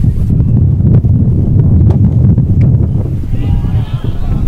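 Wind buffets the microphone at an outdoor baseball game in a steady, loud low rumble that lasts the whole time, with faint rustles and knocks underneath.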